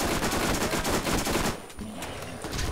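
Rapid machine-gun bursts and gunfire from the Borderlands video game, loud and dense for the first half, then dropping to softer scattered shots and background game noise.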